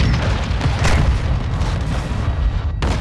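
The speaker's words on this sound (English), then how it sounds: "Throwing flash grenade!" A flash grenade going off in a combat video game: a loud, close boom with a burst and rumbling tail, followed by a second sharp blast near the end.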